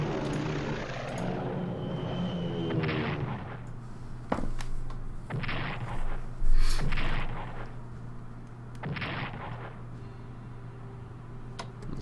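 Bombing in the World War II strategy game Strategic Command: World at War, heard as several sharp explosive bursts and blasts over a steady low engine-like drone, loud and close, with no talk.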